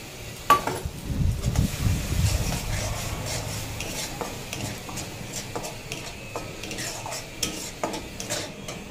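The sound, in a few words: spice paste being stir-fried in a pan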